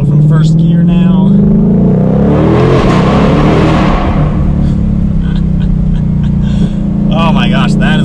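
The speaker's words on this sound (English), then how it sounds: "We're gonna go under and make a little bit of noise because, well, we're in a Mustang" A supercharged 700-plus horsepower 2020-2023 Ford Mustang Shelby GT500 accelerates hard from first gear, its exhaust roaring and climbing in pitch through a loud, sustained pull before easing off, with voices talking over it.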